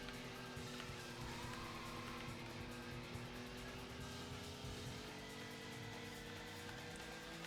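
Steady engine drone from an opponent's car running close behind in a racing video game, a constant tonal hum with no speech over it.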